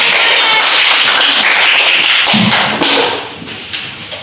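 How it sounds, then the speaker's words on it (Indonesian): A classroom group gives a loud, close burst of dense clapping during a micro-teaching lesson, fading into scattered claps and a thump by the end. "tepuk tangan dulu"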